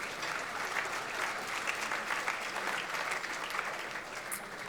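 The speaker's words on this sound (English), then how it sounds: "So yes, a round of applause for MDWA." A room of dinner guests at a T14 event applauds MDWA, sustained crowd clapping that holds evenly throughout at moderate volume with no talking over it.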